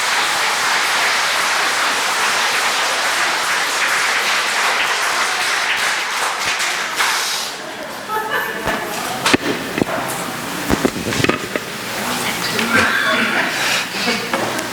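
An audience at a Lenten lecture by a Catholic priest in Daegu applauds in a dense burst that fades after about seven seconds, leaving scattered claps, thumps and speech.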